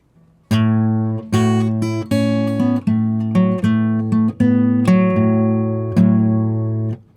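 Blues guitar phrase played solo as a series of ringing, sustained chord strikes, about ten even attacks with a steady loping rhythm, close and clear with no talk.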